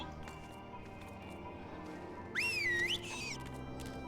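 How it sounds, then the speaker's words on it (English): A short rising-and-falling whistle sounds once in Final Fantasy XIV, fairly clear over a low ambient game background, lasting under a second. "Don't whistle at me."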